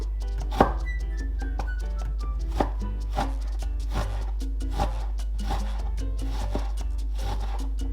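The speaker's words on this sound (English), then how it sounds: "Mince the onion." A knife minces an onion on a board with quick, steady chopping strokes close by, a rapid repeated tapping with a few sharper hits over a constant low hum.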